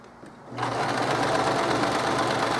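A sewing machine stitches a tote bag, starting after a brief quiet moment and then running steadily with a dense, continuous mechanical whir up close, with no talk over it.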